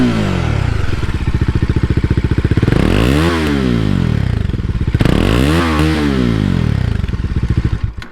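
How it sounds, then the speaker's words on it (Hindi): A Bajaj Dominar 400 BS6 motorcycle's single exhaust, loud and close, with a steady idle thumping that rises through two revving sweeps and falls back each time, no one talking. "इसका एग्जॉस्ट नोट सुन लेते हैं"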